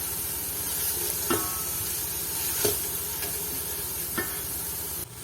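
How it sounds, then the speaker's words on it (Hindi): Spice masala frying in oil for kari pakora gives a steady, even sizzling hiss with a few soft clinks of stirring scattered through it, and a sudden drop near the end. "मसाला हमारा अच्छी तरह भून गया, ऑयल इसने छोड़ दिया हुआ है"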